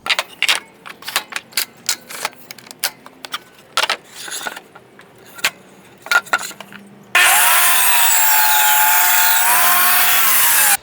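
A power saw cuts through a piece of wood, loud and steady for several seconds near the end, after a stretch of clattering, clinking handling noises and tool knocks.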